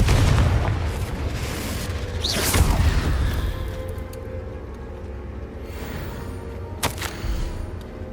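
Confringo fire spell blasts in Hogwarts Legacy, a loud booming burst that rolls off into rumbling debris, followed by a second sharp crack a few seconds later, with no talking.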